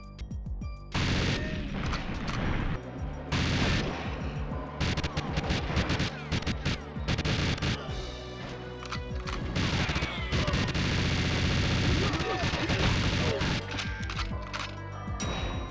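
Gunshots ring out in a James Bond 007 game amid crashing, smashing impacts and a tonal music bed, the shots coming in scattered bursts over a loud, busy mix after a brief quieter opening.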